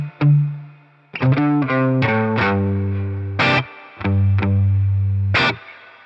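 Electric guitar played through a Vox AC30 NAM amp preset on a GP-50 unit, loud and close, with several driven chords and single notes ringing out between short pauses.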